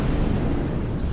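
Deep, sustained rumbling blast from a mirror ship being destroyed in a space combat video game, loud and dense throughout with no voices over it.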